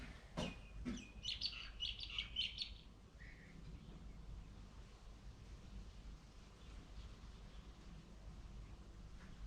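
Birds chirp outdoors in a quick burst of bright tweets early on, then fade to faint scattered calls over a soft wind-like background hiss.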